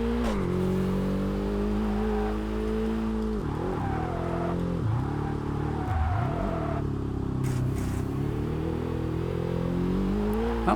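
Simulated race car engine in the Kaido Racer 2 video game, a steady droning whine that drops sharply several times as the driver brakes early for a hairpin, then climbs again, continuous and close with no talk.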